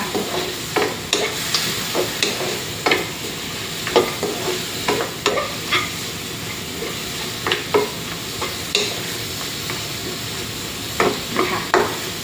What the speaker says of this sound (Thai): ใส่ซี่โครงหมูลงไปค่ะรวนให้ซี่โครงหมูสุกค่ะ